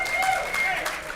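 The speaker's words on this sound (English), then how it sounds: "So give him a round of applause." Applause from the crowd at an arm-wrestling night for a competitor named Jake, a steady wash of clapping with a voice speaking faintly over it.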